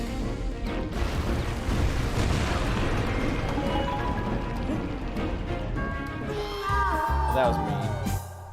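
Explosions and crashing effects from the Donkey Kong Country Returns video game, a dense, loud burst-filled game soundtrack running throughout with sweeping tonal effects near the end and faint voices underneath.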